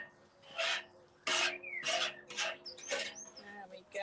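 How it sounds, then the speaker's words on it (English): Metal scraper rasping across the cooking surface of an AGA outdoor grill: repeated close, gritty strokes, one after another in an uneven rhythm, with brief pauses between them. "So what you want to do is just use your scraper. Any naughty bits, just scrape along."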